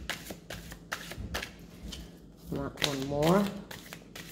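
Tarot cards being shuffled by hand: a series of quick, crisp riffling bursts close to the microphone, followed by a voice speaking briefly.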